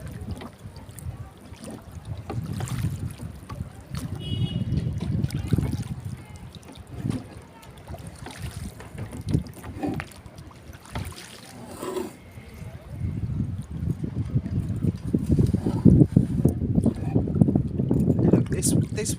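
Wooden oars on a rowing boat dip and splash in open water in slow, uneven strokes, with soft trickling and light wind, close and fairly quiet, under occasional talk.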